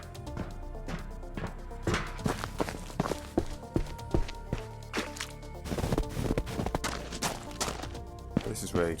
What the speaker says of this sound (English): we've started to add a few more things like footstep sounds and these particle effects for different surfaces.